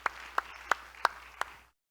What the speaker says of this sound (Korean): 예, 박수하시겠습니다.